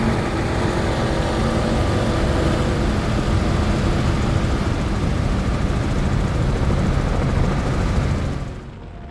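A helicopter flies over a powerboat poker run on the Emerald Coast, giving a loud, steady rotor and engine roar that fills the whole stretch before easing off at the very end.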